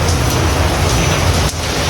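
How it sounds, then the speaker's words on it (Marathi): Heavy rain pours down in a dense, steady hiss that fills the whole clip, with no voices. "पाऊस किती पडतो"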